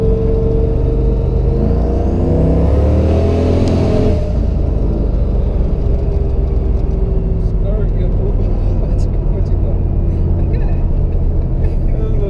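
A turbocharged Camaro with over 500 horsepower takes off, its engine revving hard and rising in pitch for about four seconds, then settling into a loud steady drone inside the car while people talk.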